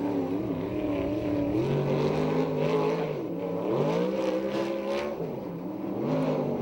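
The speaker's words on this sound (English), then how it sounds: "Car number 96, Smooth Tyler Brown, takes the green flag" A USAC sprint race car engine roars at the green flag on an oval track, a loud sustained drone that rises and falls in pitch as it revs and shifts, steady throughout.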